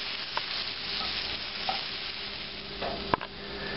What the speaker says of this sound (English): So these have been cooking on one side for about 3 minutes on about a medium-high heat.